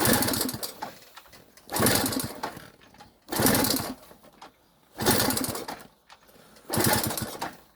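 A Delta moped engine that will not keep running: five loud, close bursts of revving, each about a second long and cutting out into quiet gaps between attempts, with no talking.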